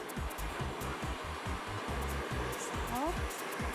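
A hair dryer blows steadily and close at hand while hair is blow-dried with a round brush, its airflow hiss continuous under someone talking.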